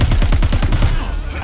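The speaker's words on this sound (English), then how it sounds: "This machine pistol is all about filling the air with lead at close range." Rapid close-range bursts from a machine pistol in the video game Crackdown 3, a loud fast rattle of about ten evenly spaced shots in under a second, then fading into a lingering noisy tail.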